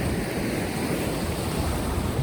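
Pacific Ocean waves wash onto the shore in a broad, steady roar of surf and hiss, loud and continuous with some wind buffeting the microphone, no talk.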